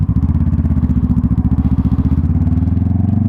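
Honda CBR 500R motorcycle engine running steadily nearby, a loud, even, rapid pulsing drone with a faint rise in pitch over a few seconds.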